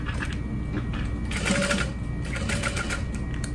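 A sewing machine stitches fabric for a barrel bag at a long 4.5 stitch length, including a back stitch, with a steady fast mechanical whirr that runs unbroken at close range.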